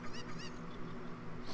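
Cucco chicken clucking in the video game The Legend of Zelda: Ocarina of Time, a few honking, squawking calls over a steady game soundtrack with no talk.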